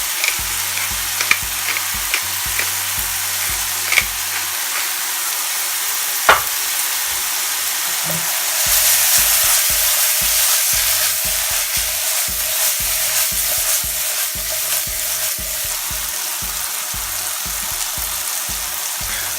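Pork chops frying in a pan, seasoned with salt and pepper, with a steady sizzle that swells louder partway through, alongside a few clinks and stirring scrapes; no talking.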